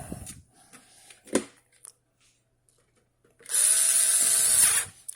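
A power screwdriver whirs for about a second as it drives a screw into a hard drive being mounted in a Hikvision DVR, loud and close, after some quiet handling taps and clicks.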